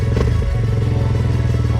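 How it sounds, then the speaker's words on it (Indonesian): A Kawasaki KLX 230R dirt bike engine runs loud and close on a slippery muddy trail, a steady low throbbing drone with a brief clatter early on and no talk. "persiapan aksi dari Mas Musin lagi pakai KLX 230R nya"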